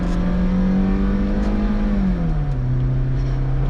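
A naturally aspirated Audi A3 8P engine pulls under full throttle, a loud, close drone that rises steadily in pitch, then dips as it shifts and settles into a lower, sustained tone.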